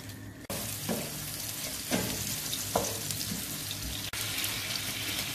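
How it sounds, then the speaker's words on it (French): Shrimp seasoned with salt and pepper sauté in a pan, a steady close sizzle running throughout with a few soft stirring knocks and one brief break near the start. "vais sauter la crevettes environ 5 minutes"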